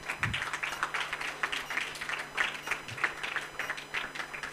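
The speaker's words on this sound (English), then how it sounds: "You all deserve a big round of applause" A school Model UN grand finale audience claps in a sustained round of applause, a dense, even patter with a few louder thumps, and no voices on top.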